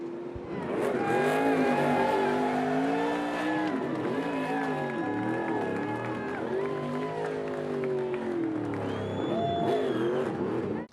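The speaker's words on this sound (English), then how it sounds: "Lane Riggs wins the first ever street course circuit for the NASCAR Craftsman Truck Series" NASCAR Craftsman Truck Series race trucks roaring on a street course, loud engines revving and shifting continuously with tire noise, crowd cheering and a commentator speaking over the action.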